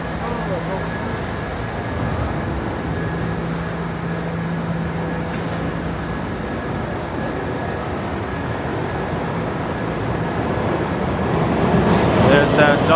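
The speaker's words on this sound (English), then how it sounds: "There's that W train I just came from" A New York City subway W train rumbles through a station, a steady loud mechanical roar with a sustained hum that swells toward the end as the cars pass close by.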